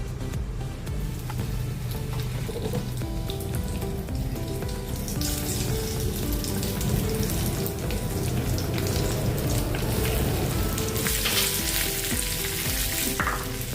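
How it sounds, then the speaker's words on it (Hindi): Okra sizzles and crackles steadily in hot oil in a pan, with occasional stirring scrapes and a brief burst of running water near the end. "अभी हम इसमें भिंडी फ्राई करेंगे।"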